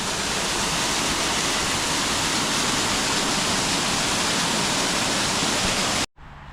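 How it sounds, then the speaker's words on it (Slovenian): Tilnik waterfall in the Idrijca valley of Slovenia, a constant broad roar of falling water that stays loud and unbroken for six seconds, then cuts out briefly at the end. "to pa je slap tilnik. Tak prijeten slapek."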